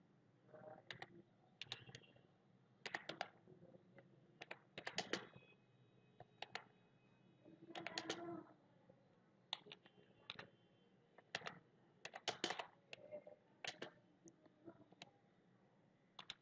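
Bursts of typing on a computer keyboard come in quick clusters of key clicks separated by short pauses, close and fairly quiet, with no talk over them.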